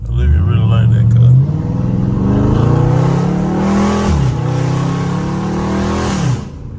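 Scat Pack car exhaust revving hard in a neighborhood, with rising and falling engine tones, throttle blips and burbling as it shifts, loud and close, with someone talking over it.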